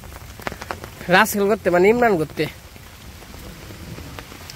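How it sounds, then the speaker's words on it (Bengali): Steady light rain patters in a village setting as a rain shower winds down, with someone speaking briefly over it in the middle. "বৃষ্টির শেষ মুহূর্ত।"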